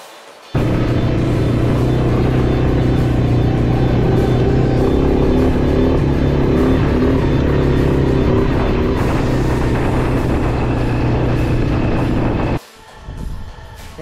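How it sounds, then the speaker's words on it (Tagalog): A rented Nissan Patrol 4x4's engine runs steadily and loud on desert sand, a continuous low rumble with slight revving swells, close by and alone for about twelve seconds before cutting off. "ito yung na-rent naming sasakyan, Nissan Patrol 4x4"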